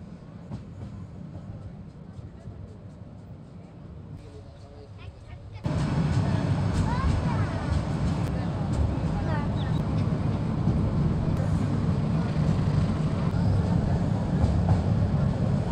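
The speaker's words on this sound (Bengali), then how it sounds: "দুলহাজরা সাফারি পার্ক, চুন্তি বন্যপ্রাণী অভয়ারণ্য, এইসব অঞ্চলে ট্রেনটি খুবই ধীর গতিতে যায়।" Paryatak Express passenger train running slowly through a forested wildlife sanctuary stretch toward Cox's Bazar, its steady rumble rising sharply partway through and holding loud and close, with faint squeals from the wheels.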